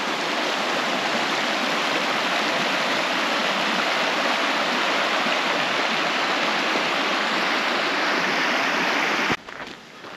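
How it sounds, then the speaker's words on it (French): Continuous rushing of a mountain stream near a parking area in the Pyrenees, a full steady wash of water nearby, ending with a brief clatter of handling noise. "nous avons le ruisseau qui coule"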